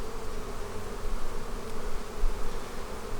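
Honeybees at an open hive in Georgia, drawing fresh comb, make a dense, steady, close buzzing drone with no gaps.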